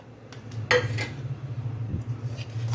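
Chopped tomatoes go into a cooking pan with stuffed bitter gourd and gram flour, giving a brief clatter of metal and utensil clinks, then quieter scraping and soft stirring noises at low volume.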